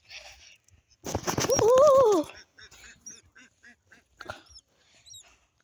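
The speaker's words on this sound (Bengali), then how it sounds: "এখানে পাখি যাচ্ছে, এখানে হলো হাঁস" A duck in a village lets out one loud, drawn-out nasal quack close by after a brief rustle. Faint chirps from small birds follow against an otherwise quiet outdoor background.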